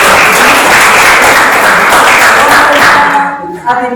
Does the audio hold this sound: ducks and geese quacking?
no